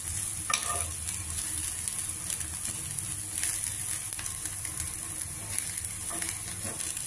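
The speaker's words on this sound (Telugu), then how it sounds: "ఉల్లిపాయ ముక్కల కలర్ మారుతోంది, కొద్దిగా లైట్ బ్రౌన్ కలర్ లో వస్తుంది ఇది." Onion pieces frying on low heat in a pan turning light brown, a continuous soft hiss and sizzle with occasional stirring scrapes, quiet and close.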